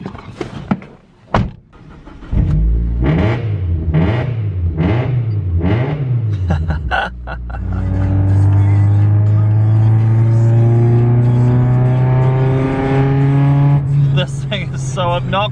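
A Mitsubishi Lancer with a 4G93 SOHC engine rises and falls through several quick revs, then holds a loud, sustained high-revving drone, close by, while a person talks over it.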